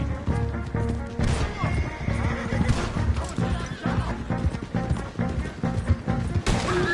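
A horse neighs in the video game Red Dead Redemption 2 amid loud clattering hooves, crashes and thuds in a chaotic gunfight scene with voices mixed in.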